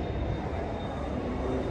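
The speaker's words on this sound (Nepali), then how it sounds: "यहाँ कतार एयरलाइन्सको पनि यहाँ प्लेन आएको छ हेर्नु" A Qatar Airways airliner arriving at the airport gives off a steady, broad jet rumble that holds at an even level for the whole stretch, with no voices over it.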